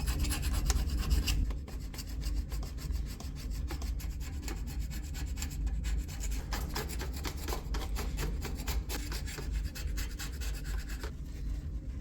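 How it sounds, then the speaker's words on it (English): Steady rasping scrape of debris being cleared from an old Ford Bullnose shortbed 4x4 truck, a continuous gritty rubbing that runs close and evenly after a brief louder start. "Try to keep the debris out of there while I'm scraping."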